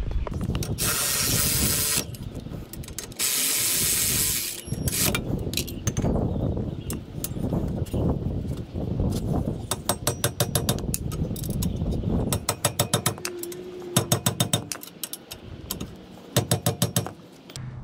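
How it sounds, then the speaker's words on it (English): A ratchet tightening brake caliper bolts on a 2019 Toyota Sienna, bursts of rapid close clicking in quick repeated runs, mixed with loud spray-like hissing early on, no talking. "installing the 2 bolts, tightening up my bolts"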